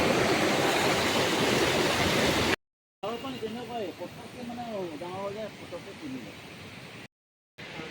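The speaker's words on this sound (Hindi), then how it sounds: "सो यहाँ पे भी पानी का फोर्स बहुत ज़्यादा है।" Strong river current at Kaipholangso Waterfall in Karbi Anglong rushes loudly and densely, then continues underneath as someone talks, with two brief dropouts to silence.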